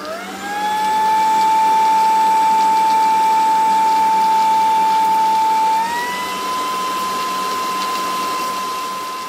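A vacuum cleaner with a space capsule LED display picks up crumbs from under children's chairs, giving a loud, steady motor whine that rises at the start and shifts pitch slightly partway through.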